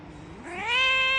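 A domestic office cat gives a single drawn-out meow that rises in pitch and grows louder, close by, with no talking over it.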